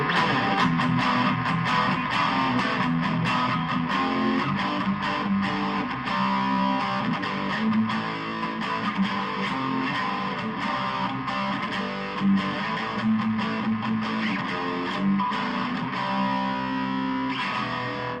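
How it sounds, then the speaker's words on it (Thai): Dense, saturated electric guitar with heavy distortion through a Busker's Stratocaster's pickups, chords ringing continuously and loudly, close and steady with no pauses. "ปิกอาพมันเอาอยู่นะครับ เสียงแตกโอเค"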